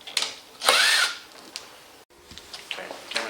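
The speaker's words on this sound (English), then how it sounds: "Now I'm drilling into the wood." A power drill bores into wood inside a Miata door panel during a speaker install, with a sharp rising whir in short bursts, close and fairly loud, followed by lighter scraping and handling sounds.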